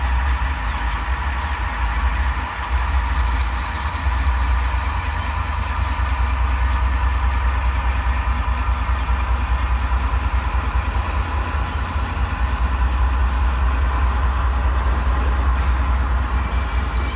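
HO scale model coal train pulling out of the yard toward the coal mine, a steady, loud, continuous rumble of a model diesel motor and rolling wheels, with a low hum throughout and no pauses.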